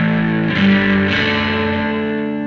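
A clean electric guitar tone played through an Epiphone Zephyr amp with the volumes rolled back to about 80%, ringing steadily and loud with sustained chords and a light shimmer, no speech.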